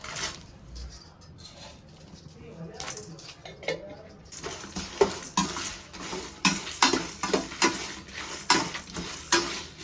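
Cumin seeds and black pepper dry-roasting in a pan while a spoon stirs them, producing close, repeated scraping and rattling strokes with a faint sizzle that grows busier and louder toward the end.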